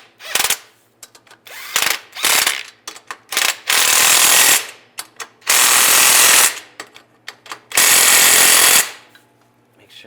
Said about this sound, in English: Now we'll tighten up the clamp. Use a